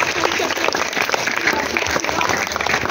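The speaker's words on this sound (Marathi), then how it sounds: "तर टाळ्या वाजवा, तिला शुभेच्छा द्यायच्यात आपल्याला" A school audience at a children's Marathi literature gathering applauding a guest, dense loud clapping filling the hall throughout, with some speech mixed in.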